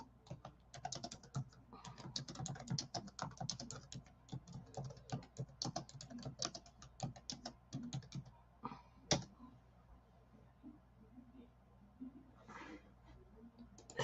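Fast, uneven typing on a computer keyboard, close by, with dense bursts of key clicks that thin out after about eight seconds into sparse taps and a few louder knocks.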